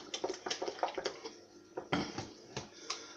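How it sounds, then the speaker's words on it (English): Spoon clinking and scraping against a slow cooker pot while mixing chili with hot chili sauce, a quick run of light taps and scrapes, a short pause, then a few more clinks, close and fairly quiet. "And then give it a really good mix up"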